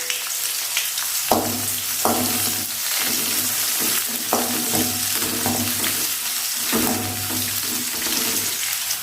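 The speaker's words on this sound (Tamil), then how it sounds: "அடுத்து வெங்காயத்தை சேர்த்துட்டு நல்லா கிண்டி விட்டுக்கலாம்" Chopped onions hit hot oil with mustard seeds and curry leaves for a Tamil cauliflower stir-fry, a loud steady sizzle broken by several scraping, clattering stirs of the pan.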